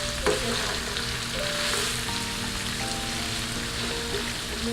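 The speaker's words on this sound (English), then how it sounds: "I let the onions and the garlic cook for about 3 minutes" Onions and garlic sizzle in a pan for a homemade spaghetti bolognese, a loud steady fry with a spoon stirring and scraping close by, no talk.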